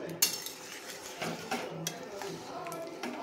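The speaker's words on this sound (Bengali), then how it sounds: "এবার একটু খুন্তি করে নাড়িয়ে নেব" A metal spatula scrapes and clinks against a pot while stirring a fish-roe fritter curry with pointed gourd in gravy, giving a string of light irregular knocks and scrapes at moderate volume.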